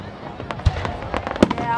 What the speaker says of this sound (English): I'm watching the fireworks right now.